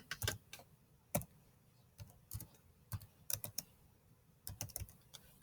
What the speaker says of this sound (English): So let's type these two in.